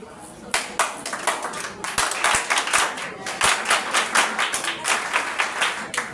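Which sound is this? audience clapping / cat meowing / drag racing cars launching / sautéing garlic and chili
audience clapping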